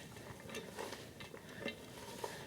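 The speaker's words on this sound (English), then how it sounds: "I'm going to stir the onions around, see if I can get them coated with that mixture." Eight cups of onions being stirred in a pot to coat them in a seasoning mixture with pepper flakes, giving a steady soft scraping and light sizzle close by with no talk.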